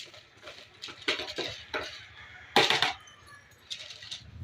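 A utensil clinks and scrapes against its container while a mixture is stirred, in short irregular bursts of metallic tapping, close and fairly quiet, with no one speaking.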